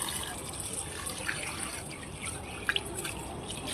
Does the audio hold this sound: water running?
yes